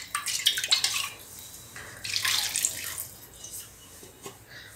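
Water poured into a pressure cooker of pav bhaji vegetables, with clinking of metal utensils and cookware in a kitchen, splashing and clatter in short bursts.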